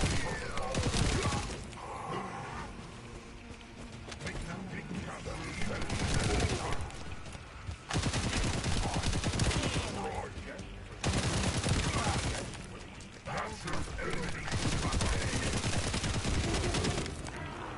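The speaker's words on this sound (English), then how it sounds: "This actual machine gun barely taps stuff." Heavy machine gun fire from The First Descendant, Echo Swamp mission, in dense sustained bursts broken by short pauses, loud and close, layered with impact thuds and game effects.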